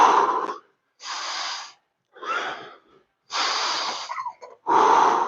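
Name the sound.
heavy breathing during squat workout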